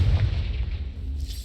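A Confringo blasting spell explodes in Hogwarts Legacy, a brief, fairly quiet low boom that fades into a soft rumble.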